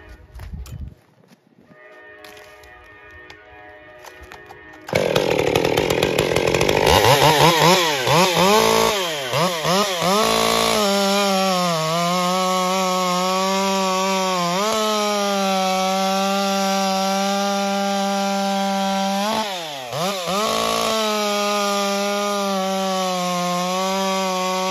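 A modded Stihl MS201T top-handle chainsaw with a manual, non-M-Tronic carburetor starts with a sharp burst and then screams loudly at high revs, with a few brief dips in pitch as the throttle is blipped.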